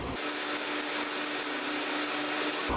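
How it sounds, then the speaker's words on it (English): A bolt tightened on a ProSlab stacker head belt with an alignment jig in place, heard as a close, continuous whirring power-tool drone lasting a little over two seconds. "You will then tighten down the second bolt, keeping the alignment jig into place."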